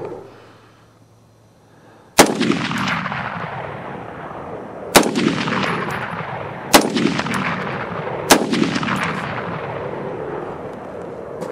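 Four loud, sharp rifle shots from a Bushmaster ORC AR-10 in .308, each one followed by a long echoing decay, fired at irregular intervals of about two seconds after a quiet start.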